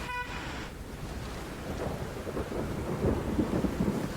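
Heavy monsoon rain pours steadily with a low rumble of thunder rolling underneath, a dense continuous wash of sound during flooding near the Pune–Nashik highway at Chakan in Maharashtra.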